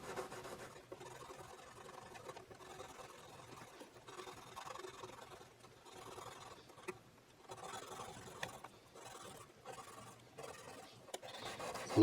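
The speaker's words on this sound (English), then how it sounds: "I'm just shining up these frets a little bit, getting the dirt off of them" Frets on a Yamaha SG331 electric guitar are polished with a cloth, giving a faint, soft rubbing and scrubbing in repeated short strokes, close and quiet, without talk.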